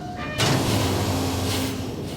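Great engines starting up in Amnesia: A Machine For Pigs: an abrupt mechanical clunk gives way to a loud, sustained low droning hum with grinding, rushing texture, steady and close.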